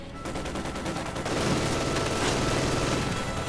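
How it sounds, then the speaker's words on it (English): Sustained MG42 machine-gun fire rattles in a Company of Heroes 2 battle, dense and loud, building into a thicker barrage partway through and continuing without pause. "MG42 firing away though."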